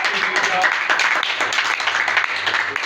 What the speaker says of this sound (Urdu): یہ تالیاں خدا کے دلاتے ہیں